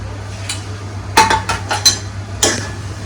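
Chopped spring onion greens and coriander being mixed in a dish for vangyache bharit, heard as a spoon scraping and clinking against the dish in several sharp knocks over a low steady hum.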